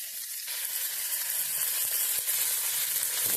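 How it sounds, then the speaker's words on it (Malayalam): Cashews and raisins sizzle steadily in ghee in a pan for payasam, a dense continuous crackle with soft stirring scrapes, close and unbroken, no voices. "നമുക്ക് ഈ അണ്ടി മുന്തിരി ഒന്ന് വറുത്തെടുക്കണം."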